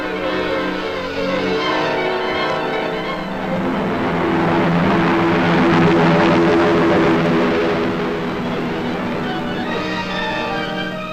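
Giant United States transport planes of 1943 fly toward Tunisia, their engines producing a steady, loud droning roar that swells toward the middle and stays continuous throughout, with no voices.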